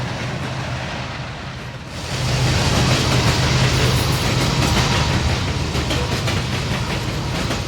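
A Union Pacific freight train led by three locomotives climbs toward the Donner Pass summit near Norden, California, a broad, steady rumble that swells suddenly after two seconds into a loud, sustained roar with a low engine drone.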